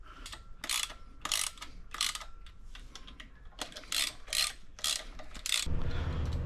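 A torque wrench ratchets on the flywheel bolts of a 2018 Chevrolet Camaro during a billet steel flywheel and clutch install, giving quick runs of close, crisp metallic clicks separated by short pauses, ending in a duller rumble.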